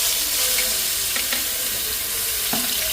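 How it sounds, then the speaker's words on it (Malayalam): Shallots hit hot oil after fenugreek seeds in a Kerala-style fish curry, giving a loud, dense, continuous sizzle and crackle throughout, with a few brief clinks from the pan. "ഉലുവ മൂത്തതിന് ശേഷം ചെറിയ ഉള്ളി ഇടാൻ പോവാണ്."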